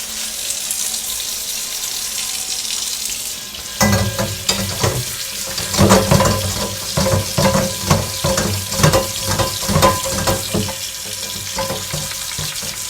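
Water running from a tap over a carbon steel pan while an abrasive pad scrubs it, a steady hissing splash joined by rhythmic close-up scouring strokes in quick repeated bursts.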